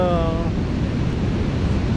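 Continuous rush of ocean waves and surf with wind buffeting the microphone, loud and steady throughout.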